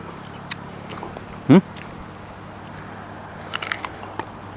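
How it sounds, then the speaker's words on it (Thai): A crisp, firm ripe Nam Dok Mai mango is bitten once with a sharp loud crunch, followed by faint chewing crackles; a voice talks quietly nearby. "กรอบมาก ต้องเกี้ยวอย่างเงี้ยเพราะฟันต้องไม่ค่อยดี"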